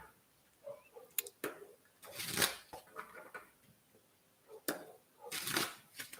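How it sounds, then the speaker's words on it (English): Oracle cards being shuffled by hand for a tarot reading, with crisp riffling bursts between quieter pauses, close and fairly loud. "I'm going to give those a good shuffle."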